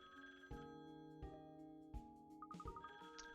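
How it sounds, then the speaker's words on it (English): Telephone ringing in the Katrielle and the Millionaires' Conspiracy video game: a few repeated electronic rings in short bursts over soft background game music, clear and close. "Oh, that's the phone."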